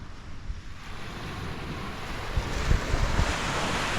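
Ocean surf rolling onto a beach under steady wind, a continuous broad roar with soft swells building toward the end and no voices.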